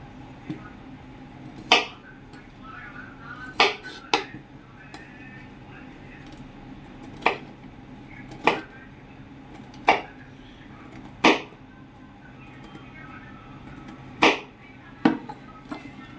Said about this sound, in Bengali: এইভাবে সব পুস্তাগুলো কেটে নিব আমি অবশ্য ছুরি দিয়ে কাটতে পারি না তাই বটি দিয়েই কাটবো